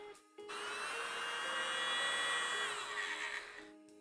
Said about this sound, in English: It's a little leaf blower.